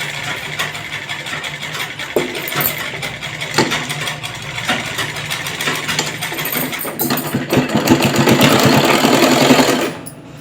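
A sewing machine runs steadily while stitching along the folded bottom hem of a straight kurti, a continuous mechanical whir that grows louder and denser toward the end before cutting off abruptly.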